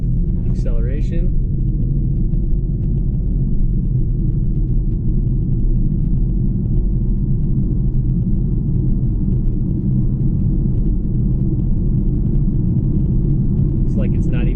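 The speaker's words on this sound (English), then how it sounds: "Casual acceleration." An Infiniti FX50 5.0 V8 fitted with a Borla S-Type exhaust accelerates gently, giving a low, steady engine rumble and drone under road noise, heard from inside the car with a brief voice at the start and end.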